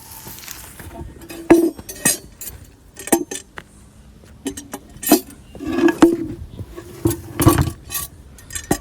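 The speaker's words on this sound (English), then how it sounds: "So I'll just pop this lid back." A metal lid being set back onto a cable pit, with a series of sharp clanks, clinks and scrapes of metal on metal at irregular intervals, close by against a quiet outdoor background.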